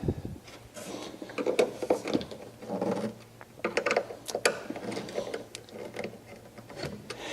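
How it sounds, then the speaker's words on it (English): Cam fittings on a studio desk storage headboard are tightened by hand, giving close, irregular clicks, scrapes and ratcheting turns of a screwdriver at moderate volume with no speech. "And I'll tighten those cam fittings down."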